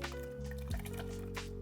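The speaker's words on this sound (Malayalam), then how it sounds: "നല്ല തിളച്ച വെള്ളത്തിലോട്ട് നമ്മൾ നേരത്തെ സോക്ക് ചെയ്ത് ജീരക റൈസ് ആഡ് ചെയ്യും." Soaked jeera rice poured into a pot of boiling water for Ambur biryani, giving a short wet splash and gurgling pour, close and steady, with a low hum running underneath.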